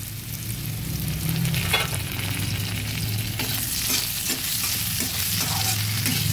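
Banana flower (mocha) fries in a pan with salt and turmeric while a spatula stirs it, giving a steady loud sizzle with scraping strokes that turn busier and more clattery partway through.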